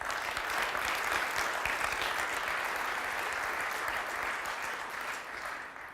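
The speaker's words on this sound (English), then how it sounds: "please clap now." Audience applause at an innovation summit, a dense, steady clapping from a large crowd that holds strong for several seconds and eases slightly at the end, with no talking over it.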